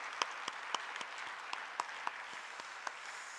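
A church congregation at a Korean spring revival service claps in sparse, scattered applause, individual claps standing out over a soft, distant background hush.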